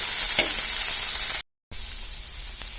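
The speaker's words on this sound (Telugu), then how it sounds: "ఇట్లా కొంచెం సేపు అయితే మగ్గిస్తున్నాము." Banana flower cooks in a pan, giving a continuous hiss of frying with faint stirring clicks, cut by one short gap of silence midway.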